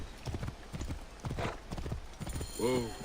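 Hooves clip-clop at a steady walking pace from a horse in Assassin's Creed Origins, ending with a short whinny, while someone talks over it throughout.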